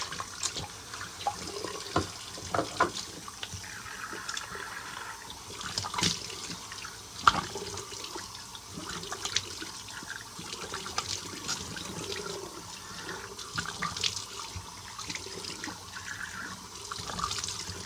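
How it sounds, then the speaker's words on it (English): Running water at a bathroom sink being splashed onto the face before a safety razor shave, a steady faint gush with scattered splashes and drips throughout, close by with no talking. "definitely gonna give my face a splash."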